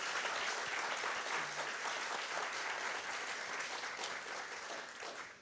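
Steady audience applause for Ruth Conniff and the panelists at a community event, a full, even wash of clapping that continues at a constant level throughout.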